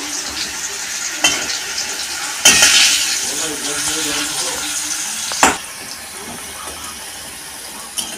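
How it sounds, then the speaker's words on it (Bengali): Potatoes sizzle steadily in hot oil as they brown, with a loud burst of spitting and occasional clanks of a spatula against the pan, the frying settling quieter toward the end. "একটু লাল লাল করে ভেজে নেব, তাহলে ভালো লাগে খেতে।"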